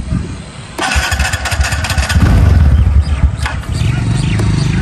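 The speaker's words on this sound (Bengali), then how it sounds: "সেলফ স্টার্ট বাটন, আমরা একটু স্টার্ট দিই।" A TVS Ntorq 125 scooter is self-started with a button: a short starter whir gives way at once to the engine catching and settling into a loud, steady idle close by.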